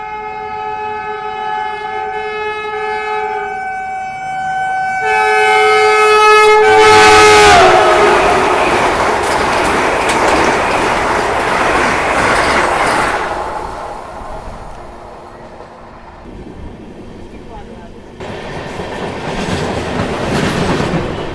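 An SMVT Bengaluru–Guwahati Superfast Express rolls through Kavali Junction railway station, opening with a long, loud multi-tone horn, then a heavy roar of passing coaches and steady rail clatter that slowly fades.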